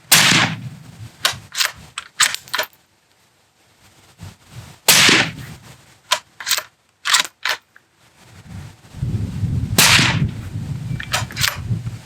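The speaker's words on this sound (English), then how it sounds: "you have the supersonic crack. This is 308, but it's really, really quiet and hearing safe." Suppressed .308 rifle fired during suppressor product testing: a series of sharp, loud supersonic cracks in small bursts with quiet gaps between, outdoors and with no talking.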